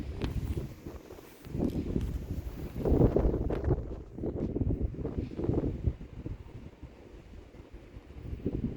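Gusty wind buffeting outdoors, rising and falling in loud rumbling surges, with no voices.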